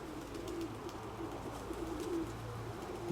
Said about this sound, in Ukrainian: Він налякав голубів.